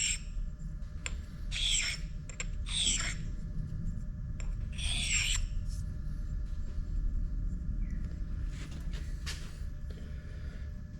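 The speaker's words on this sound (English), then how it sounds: "So I just use a flat stone, top and bottom, quick rub," Flat stone rubbed against a ground tool bit to deburr it, heard as several short, faint scraping strokes in irregular bursts over a low workshop hum.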